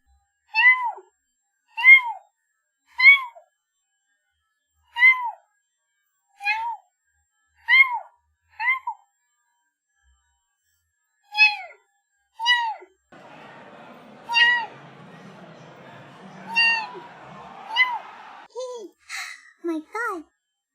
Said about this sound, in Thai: ขอเสียงแมวเหมียวหน่อยครับแมวเหมียว